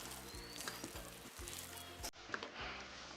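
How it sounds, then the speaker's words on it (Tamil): Dried red chillies crackle and sizzle in hot oil as a Navaratri snack is prepared, a dense, steady frying hiss close up, broken by a brief gap, with faint stirring and no talk. "எண்ணெய்க்கில் பொரிக்கல கொஞ்சம் செத்த மிளகாய் போடுங்கோ."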